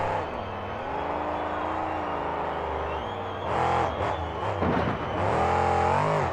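Monster truck engine roaring steadily through a freestyle run at a 2006 KORR Monsters event in Orlando, Florida, pitch rising and falling with revs and surging louder in bursts toward the end, amid arena crowd noise.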